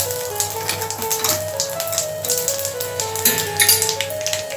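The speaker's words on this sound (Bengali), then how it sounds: "এবার আমি তেলের মধ্যে দেব একটু জিরা ফোড়ন তেজপাতা একটু কালো জিরা" Cumin seeds, bay leaf and black cumin sizzle in hot oil as a tempering for a home-style Bengali katla fish curry with potato and cauliflower, a steady close crackle running under background music.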